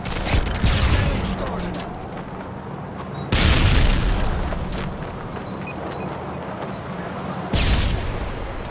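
Grenade blasts in a video game: three loud, sudden booms spaced a few seconds apart, each decaying into rumble, with faint background game noise between them.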